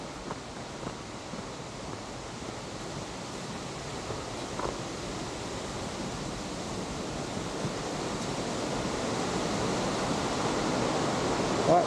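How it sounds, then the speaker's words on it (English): Water rushes near a waterfall in Hallstatt as a steady, broad roar that slowly swells over about twelve seconds, with no voices over it. "Okay, so I can hear the water."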